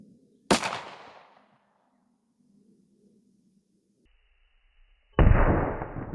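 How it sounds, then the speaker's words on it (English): Two sharp, loud gunshots from a Canik 9mm pistol firing Federal HST 124-grain +P rounds. Each is a close blast with a decaying tail, with several seconds of near silence between them. "Now we'll take a shot through the Canik and see what the little longer barrel can do"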